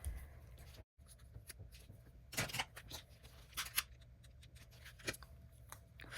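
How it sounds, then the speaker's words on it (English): Scissors snip through a zipper just in front of the zipper stop, giving a few quiet, close, crisp cuts spaced irregularly over faint handling noise, with no talking. "snip the zipper here just in front of where that zipper stop is at the end"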